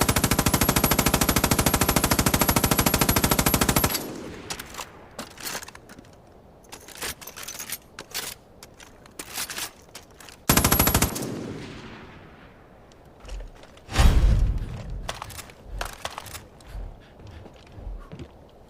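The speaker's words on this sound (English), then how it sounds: "This is an M249 SAW Para." An M249 SAW Para machine gun in the video game Division of Arms fires a loud sustained automatic burst, then a second burst follows after clanking reload and handling sounds, with more mechanical clicks and rattles at the end.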